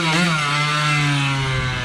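A 1974 Yamaha MX100 motorcycle engine revs loudly and close up, a steady buzzing two-stroke drone that rises slightly in pitch then holds, with no talking over it.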